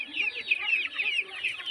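Young 20-day-old chicks being fed boiled wheat give a quick run of rapid, high chirping clucks, close and fairly clear, lasting under two seconds with no talking.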